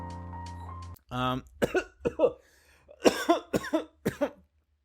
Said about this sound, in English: That's a healthy cough.